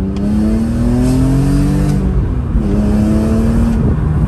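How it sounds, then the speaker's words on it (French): A BMW M3 E46 fitted with a Super Sprint Le Mans exhaust revs loud and close, its raspy engine note climbing and falling in steady sweeps with no one speaking. "le silencieux Super Sprint Le Mans, ça lui donne ce côté plus rauque"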